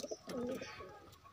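Pigeons in a loft give a soft, short coo at close range, a low throaty murmur lasting about a second against a quiet background.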